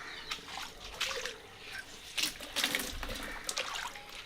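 Soaked clothes being rinsed by dipping them in fresh water: faint splashes and trickling in short irregular bursts, close by and fairly quiet, with no talking.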